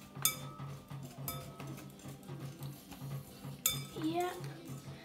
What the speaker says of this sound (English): So, just going to keep whisking and whisking.